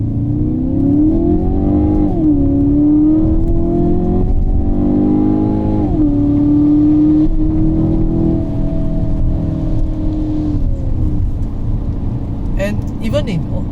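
A 2019 Kia Optima GT accelerates hard on a wet road, its engine climbing through the revs with several quick upshifts, loud and steady from inside the car, with a brief voice near the end.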